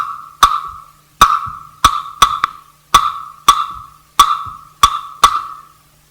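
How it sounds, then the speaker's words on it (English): A clave plays a 2-3 rumba clave rhythm: sharp, ringing wooden clicks strike in a repeating syncopated pattern, two hits then three, played twice at a steady tempo. "2, 3 rumba clave sounds like this."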